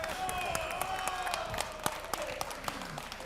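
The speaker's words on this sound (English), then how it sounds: "Give a round of applause for both the CLG ladies and Benita on your first one." An audience at a convention booth at CES 2017 claps and cheers for a live gaming match win, with steady applause and sharp individual claps under voices talking nearby.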